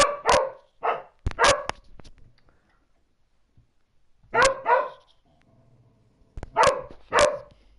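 A pet dog barks indoors in short, sharp bursts, about seven loud barks in three clusters with quiet gaps between, close to the microphone.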